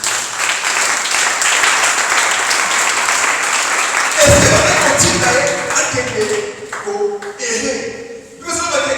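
A church congregation at a Thursday worship service applauds and cheers loudly, sustained clapping filling the room, then fading as a preacher's voice and music-like tones return in the last seconds.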